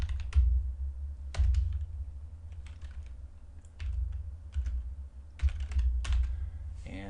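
Keys clatter on a computer keyboard as a command is typed into Star Wars Battlefront II settings, bursts of close, crisp clicks separated by short pauses, with a low steady hum underneath and no speech.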